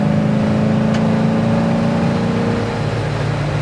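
A 1967 Buick GS 400 on bias-ply tires drives down the road, its engine a loud, steady, continuous drone that builds through the run with no voices over it.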